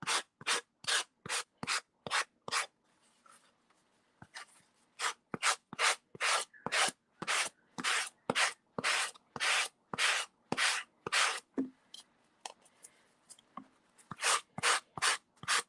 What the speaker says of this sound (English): you just want a very fine grit for sandpaper